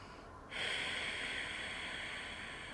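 A deep, steady breath is drawn in through the nose and held as a long, even airy rush after a brief quiet start, close and continuous, filling the belly.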